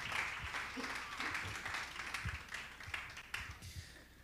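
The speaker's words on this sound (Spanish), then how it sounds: "Aplauda a Cristo y dele la gloria a Él en esta preciosa y hermosa noche." A church congregation claps during an evening service, a dense, steady wash of applause with scattered louder claps and some voices mixed in underneath.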